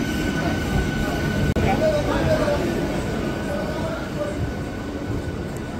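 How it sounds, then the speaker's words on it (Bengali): The Tamralipta Express pulls into Digha station with a steady, heavy rolling rumble and faint wheel squeal, close and loud throughout. "এখন কিন্তু তাম্রলিপ্ত এক্সপ্রেস অবশেষে হচ্ছে দীঘাতে ঢুকছে।"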